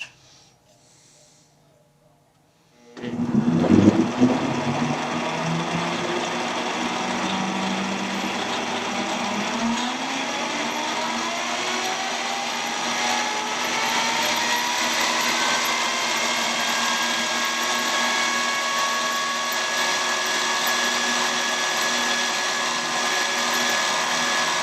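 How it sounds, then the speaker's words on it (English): A lathe testing a generator switches on after a quiet start, its motor spinning up with a rising whine and then settling into a loud, steady hum that runs on for over twenty seconds. "we're going to fire the lathe up and dial in some RPM"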